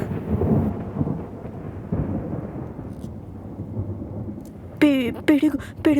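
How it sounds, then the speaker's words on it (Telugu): Deep thunder rumbles and rolls through a rainy night setting, building low and heavy at first and then easing, before sharp harmonic cries break in near the end. "పిడుగు శబ్దం."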